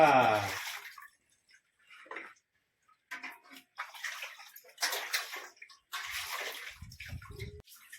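Water runs into metal pots, splashing and dripping in short bursts between pauses, with some voices mixed in near the end.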